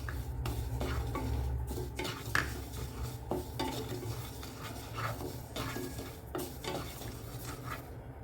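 Millet is lightly dry-roasted in a kadai for pongal, with a spoon stirring and scraping continuously against the metal pan in a close, steady rhythm and no voices.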